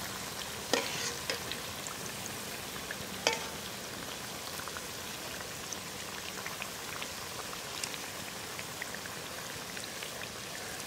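Rava kachayam fries in hot oil with a steady, dense sizzle and crackle throughout. A few sharper pops stand out early on, and no one speaks.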